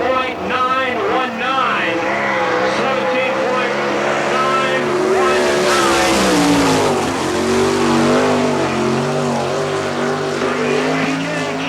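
A sprint car racing a lap at Selinsgrove Speedway, its engine loud and close, revving and rising and falling in pitch as it drives through the lap, with a voice talking over it.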